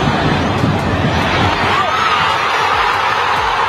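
Atlético Mineiro supporters celebrating at Arena MRV after beating Cruzeiro, a loud, dense roar of crowd cheering and shouting that fills the space without a break.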